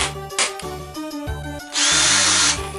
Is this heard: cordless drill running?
yes